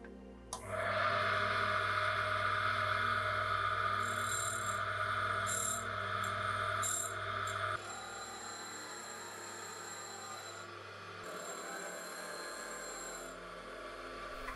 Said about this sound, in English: I begin the grinding process by flattening off the end of the tool and cleaning up the end face